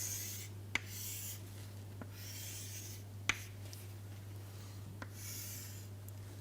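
A hand draws a schematic with a pen on paper, giving soft scratchy strokes and a few sharp taps, quiet and close over a steady low electrical hum.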